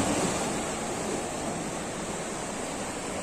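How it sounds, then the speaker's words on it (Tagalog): Ocean waves washing up on a beach, a steady broad roar of surf with some wind noise on the microphone, continuous and fairly close, with no voices. "Pero takot ako kasi ang alon."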